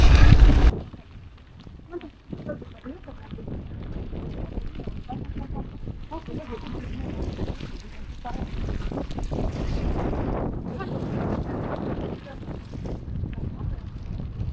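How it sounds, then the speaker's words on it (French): Heavy wind buffeting the microphone throughout an autumn gravel bike ride, a steady low roar with gusts, outdoors and continuous. "il y a pas mal de vent"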